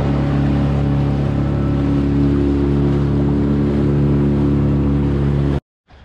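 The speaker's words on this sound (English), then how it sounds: "Back in on the super dinghy." Outboard motor of a super dinghy running steadily at close range, a continuous loud drone with low engine harmonics, cutting off abruptly near the end.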